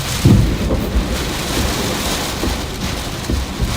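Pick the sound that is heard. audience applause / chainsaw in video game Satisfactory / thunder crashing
thunder crashing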